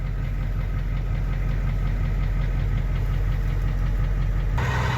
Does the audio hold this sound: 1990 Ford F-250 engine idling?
yes